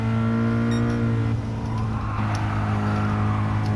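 Toyota GR86 driving in a racing video game, a loud steady engine drone that shifts pitch partway through, with faint tire squeal over the running engine.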